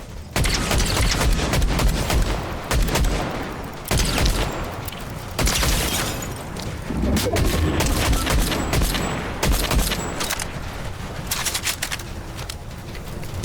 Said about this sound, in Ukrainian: Там іде стрілянина.